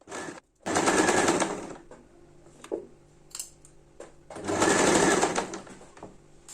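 A sewing machine stitches a lined turban in two loud, rapid, rattling bursts, close by, separated by quieter clicks and handling sounds as the fabric is adjusted.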